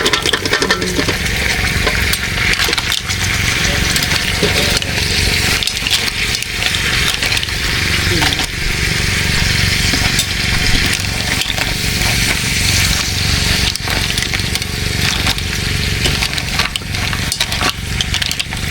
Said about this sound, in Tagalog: At pagsasamahin na rin po namin itong alimango at tahong.